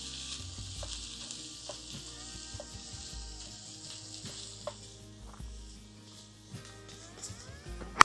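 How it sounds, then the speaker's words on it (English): Ground beef sizzles steadily in a pan while cooking breakfast tacos at a truck campsite, a constant close crackle broken by occasional scraping and stirring clinks. "That beef's starting to sizzle."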